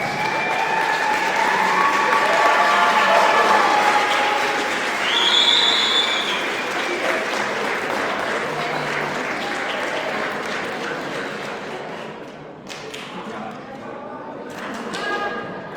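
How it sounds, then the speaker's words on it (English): Sustained applause for the parents at a 2021 8th grade graduation ceremony, with faint whistling tones rising through it midway. The clapping gradually thins and fades toward the end, and a few isolated claps and thumps remain. "Please give them a really good round of applause."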